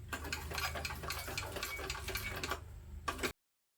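A sewing machine stitches fabric at close range, its rapid, even ticking run lasting about three seconds before stopping abruptly, with no voices.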